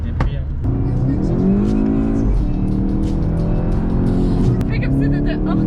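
A Volkswagen Golf 7 GTI accelerates hard, its engine note loud and close, climbing repeatedly through the gears as it speeds up.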